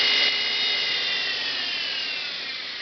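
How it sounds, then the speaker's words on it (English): A homemade buffer-powered 48-inch belt grinder runs steadily on its own, a continuous close whirring hum with a high belt whine, holding level for the whole stretch and easing off only slightly toward the end. "This is a buffer-powered 48-inch belt grinder."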